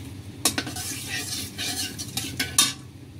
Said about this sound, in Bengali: হালকা একটু ফ্রাই করবে এগুলো।